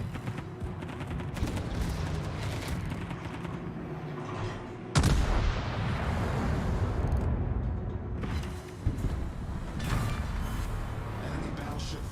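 Naval shells firing in World of Warships, with dense, rumbling broadband blasts throughout and a sharp, loud gun salvo at about the five-second mark, followed by a continuous battle roar.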